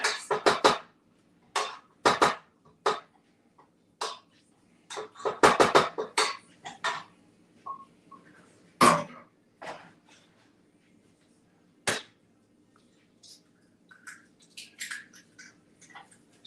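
Two eggs cracked for a gingerbread recipe at a gingerbread house contest: a series of sharp, close taps and clinks against a bowl, spaced irregularly with quiet gaps between.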